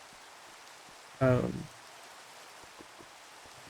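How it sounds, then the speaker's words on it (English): Rain falls in the Minecraft video game with shaders: a steady, soft hiss throughout, with faint scattered drips. A person briefly mumbles over it. "Right now we got like the rain going and stuff."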